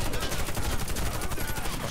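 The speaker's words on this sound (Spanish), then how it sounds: "Le acabo de coser el culo a balazos." Automatic and rapid gunfire in the online shooter Warface, a dense continuous burst of shots filling the whole moment at steady loudness, with no talk over it.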